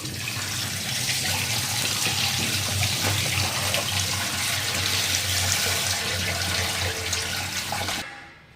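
Peeled, cut vegetables are washed under running tap water, a steady, close splashing flow that continues unbroken before stopping abruptly near the end.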